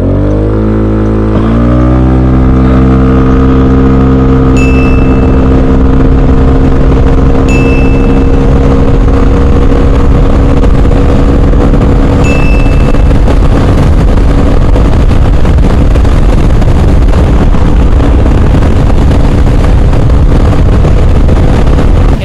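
A scooter engine revs hard under full-throttle acceleration. The drone is loud and close, with rising harmonics that run unbroken for over twenty seconds, and a few faint ticks sound above it.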